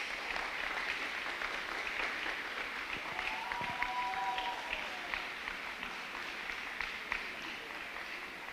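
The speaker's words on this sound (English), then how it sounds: "give him a round of applause as he walks to the stage." An audience applauds at a senior school graduation ceremony, steady clapping at moderate distance with a faint tonal sound and murmur partway through.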